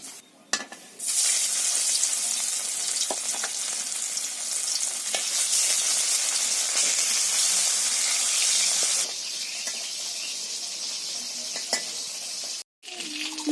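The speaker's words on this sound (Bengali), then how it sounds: "তো প্রথমে চিচিঙ্গা রান্নার জন্য এই মাছগুলো ভেজে নেব" Fish frying in hot oil in a pan before cooking ridge gourd in a village kitchen: a loud, steady, close sizzle that runs continuously, softening slightly near the end, with no voices.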